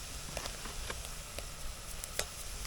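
Flour being stirred into oyster mushrooms sautéing in a pan, a quiet steady sizzle broken by light scraping and clicking stirring sounds.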